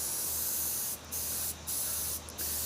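A spray gun dusts base coat color onto a car panel in short hissing bursts, three or four steady sprays broken by brief pauses, close and fairly quiet.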